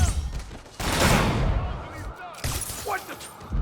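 Gunfire from Hammerhead's snipers along a convoy route in Marvel's Spider-Man Remastered, loud bursts of shots and booming impacts in rapid clusters, mixed with in-game dialogue.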